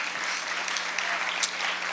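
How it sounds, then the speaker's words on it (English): Audience applause at a lecture on the house of the future, a steady broadband wash of clapping filling the whole stretch at moderate, even level with no voices over it. "Yes, we can clap for that too."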